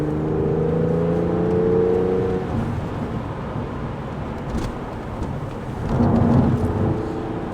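A 2004 Porsche 911 (996) Carrera 4S Cabriolet engine drops to second gear, a rising tonal whine giving way to a louder rushing roar with road and wind noise, then a fresh surge near the end.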